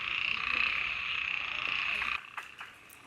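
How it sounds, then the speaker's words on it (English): A dense chorus of frogs calls steadily at night from a rainforest pond in Goa during the monsoon, a continuous trilling croak that drops away near the end, leaving a few scattered calls. "the frogs are beginning to call"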